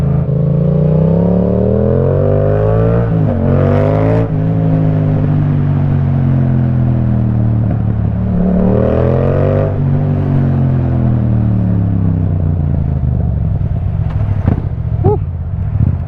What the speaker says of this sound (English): you just want to hear the bike up in its revs